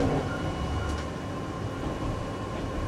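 A Japanese commuter train in a rail simulator runs along the Eizan line, giving a steady close rumble and rolling hum with no breaks and no voices.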